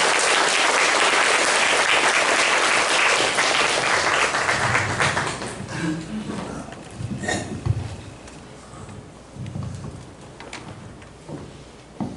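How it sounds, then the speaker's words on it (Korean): Audience applause at a church installation service, loud and dense at first, then thinning into scattered claps and fading over about twelve seconds. "이어서 우리 시청자들의 또 박수 부탁드리겠습니다."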